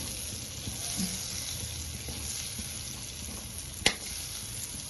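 Cubes of paneer frying in melted butter in a pan, a continuous soft sizzle with a few faint stirring scrapes and one sharp clink near the end.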